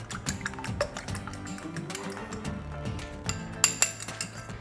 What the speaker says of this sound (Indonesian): Kita akan pecahkan dulu telurnya. 2 butir telur. Kita kocok lepas saja.